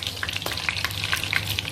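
Whole spices frying in hot oil for mutton biryani, with a loud, continuous crackling sizzle and scattered sharp pops throughout, heard close up.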